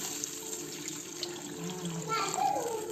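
Water runs and splashes into a cooking pot for noodles, a light steady trickle that rises in pitch near the end as the pot fills.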